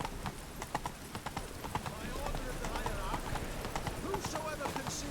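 A horse gallops in The Witcher 3 video game, rhythmic hoof clip-clops under a busy game soundscape with a rider urging it on and other voices speaking.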